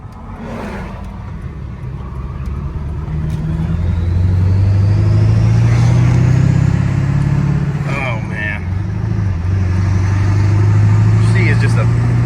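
Ford F-250 with a tuned 7.3 Powerstroke diesel and six-speed manual driving, a loud deep engine drone rising as it accelerates and holding steady, with someone talking over it from the cab.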